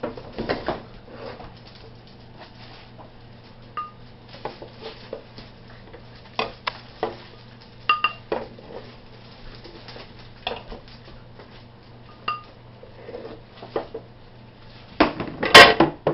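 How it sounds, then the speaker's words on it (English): Goulash is spooned into bowls, with scattered clinks and scrapes of a spoon against dishes spread across a quiet kitchen, ending in a louder clatter. "You just want to spoon it into your bowl."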